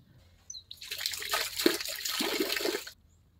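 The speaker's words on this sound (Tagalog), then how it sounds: "Ito na, hugasan ko na siya." Running water pours over a plum fruit being washed by hand, a steady close splash lasting about two seconds with brief shifts in flow, with no talking.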